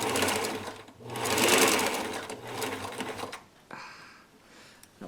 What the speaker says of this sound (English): I'm just going to sew, if I can, if it will allow me, because it's pretty thick.